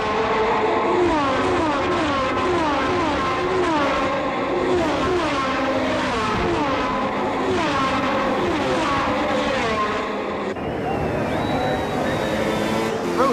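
1970s Formula One race cars screaming past the pits at Kyalami, high engines rising and falling in pitch as several pass in succession, loud and continuous, ending in a quieter stretch with no speech.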